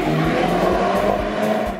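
A Renault Megane race car drives past at close range, a loud, steady engine roar with a brief tire sound, all within a couple of seconds and no speech.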